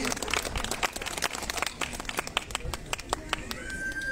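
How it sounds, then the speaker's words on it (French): Scattered, thin clapping from a small audience at a prize announcement for Christmas illuminations and nativity crèche contests, sparse individual claps, fairly faint, with a faint whistle-like tone near the end. "On peut les applaudir, hein."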